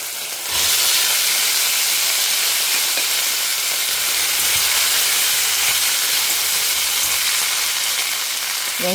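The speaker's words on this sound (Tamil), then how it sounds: "இந்த இஞ்சி பூண்டு விழுது ஆட் பண்ணாலே படப்படப்படான்னு பிரித்து விட்டுரும்." Ginger garlic paste hits hot oil with bay leaf in a pot, bursting into a loud, sustained hissing sizzle that rises abruptly and holds steady nearby.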